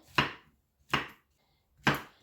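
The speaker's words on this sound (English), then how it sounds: "I'll go ahead and chop my mushrooms." Mushrooms are chopped with a knife on a cutting board: three crisp, evenly spaced chops, each a sharp thud with a brief tail, separated by silence.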